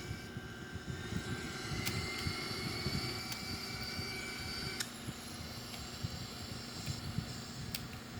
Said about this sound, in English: we just landed. We just made it. Reverse thrust.